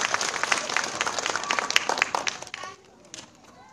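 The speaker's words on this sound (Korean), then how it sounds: "큰 박수 부탁드리겠습니다" An audience of elementary school students claps for a science lecturer at the close of a talk. The dense, crackling applause runs for about two and a half seconds and then fades quickly, with talk audible over it.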